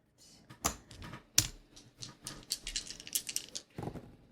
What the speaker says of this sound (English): I have to actually have the dice in my hand. to roll.